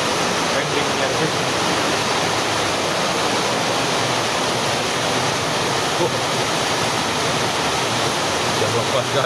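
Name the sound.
heavy rain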